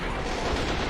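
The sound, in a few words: artillery gun firing in video game Men of War: Assault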